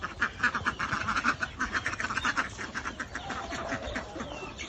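A flock of about fifteen ducks quacks steadily while eating rice feed, close and continuous overlapping calls in a rapid rhythm, with no talking.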